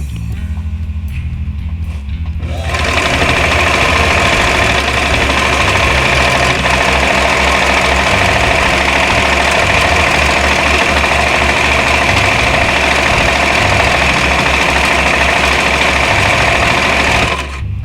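A sewing machine runs steadily in a zigzag stitch across the edge of a Harbor Freight wool blanket being made into an underquilt, its motor a continuous even whir close by after a quiet start, with no talk.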